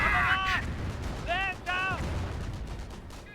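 Firestorm artillery barrage striking an anti-tank gun in Company of Heroes, with a dense rumble of blasts and crackling impacts, accompanied by short tonal game sound effects.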